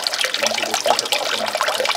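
Water circulating through a home aquaponics system, pumped and splashing in a constant bubbly trickling flow with irregular gurgles and drips, close and moderately loud, no talking.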